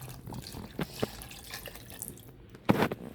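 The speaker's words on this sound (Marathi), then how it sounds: "एक ग्लास पाणी" Water runs and drips into a glass or sink in a home kitchen during cooking, with scattered soft drips and a brief louder splash near the end; no talking.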